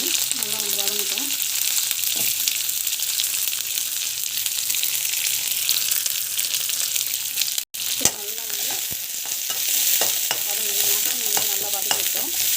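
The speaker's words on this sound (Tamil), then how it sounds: "கடுகு, சீரகம், அப்புறமா நல்லா வந்து வதங்கிட்டோம்." Mustard seeds and cumin sautéing in hot oil in a pan, a steady loud sizzle with occasional spoon-stirring scrapes and a brief pause partway through.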